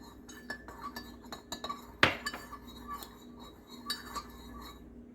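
A spoon stirs milk into coffee in a cup brewed by a Ninja CE251 programmable coffee maker, giving repeated light metallic clinks against the cup with one sharper knock partway through, close and clear with no talk.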